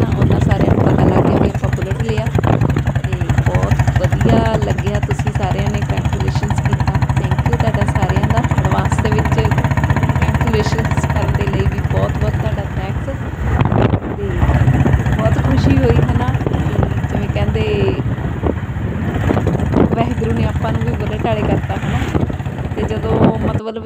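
A Royal Enfield Bullet motorcycle engine runs steadily and loudly throughout, a continuous low thumping drone with people talking over it.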